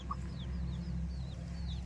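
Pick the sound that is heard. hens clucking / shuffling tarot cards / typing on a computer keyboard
hens clucking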